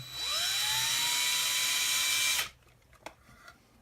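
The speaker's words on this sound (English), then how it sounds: "I'm just going to enlarge that hole" A drill bores out a hole in an AK magazine, its high whine rising to a steady loud pitch for about two seconds before cutting off, followed by quiet small handling clicks.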